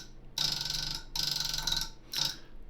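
Three bursts of harsh, buzzing electronic computer startup error beeps separated by short pauses, loud and with nothing else sounding.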